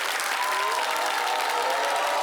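Audience of school pupils in Bobo applauding together, a steady dense wash of clapping that fills the whole stretch at moderate loudness with no talk over it.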